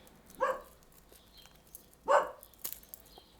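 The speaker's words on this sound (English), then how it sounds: "the dog in the background, barking at the workman" A dog barks twice in the background during an indoor unboxing of a Pagani Design PD-1734 watch, the two distant woofs spaced about a second and a half apart, with faint rustling of plastic wrapping between them.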